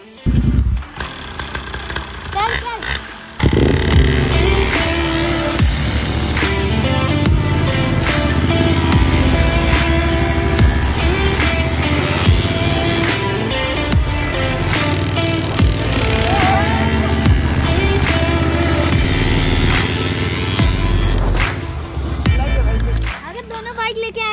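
A small mini dirt bike engine revs and buzzes loudly while being ridden, pitch rising and falling with the throttle, voices occasionally heard over it.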